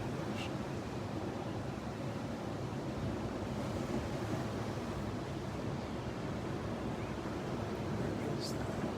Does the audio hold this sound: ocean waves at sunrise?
yes